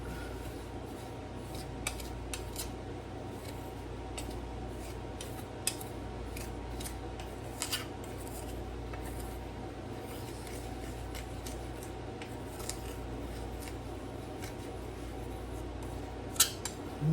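Coarse sugar and about a teaspoon of cinnamon are stirred together in a dish, heard as soft, steady scraping and rubbing with scattered sharp clicks of a utensil against the bowl. The sound is faint, close and continuous, with no talking.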